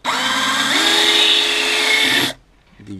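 A Black & Decker EGBL108 cordless drill drives a screw into wood with a loud, close, high-pitched whine whose pitch shifts slightly under load, then cuts off after about two seconds, leaving quiet handling noise.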